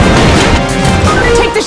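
Hades missiles explode in a video game with a loud, close, booming crash that fills the whole short moment before tailing off slightly.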